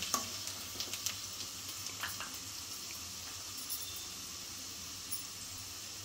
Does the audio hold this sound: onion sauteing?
yes